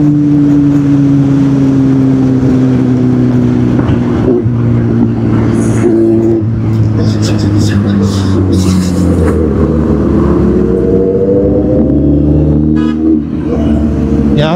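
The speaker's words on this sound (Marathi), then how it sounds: "त्यांचा गाडीचा आवाज आहे ना." A Kawasaki Z800 superbike rides on the road to Lonavala, a loud, close engine drone with gear and rev pitch shifts, wind rush and a brief horn toot near the end.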